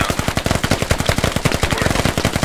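Rapid automatic gunfire in the military shooter game Squad, a loud, close, sustained burst of evenly spaced shots with no pauses.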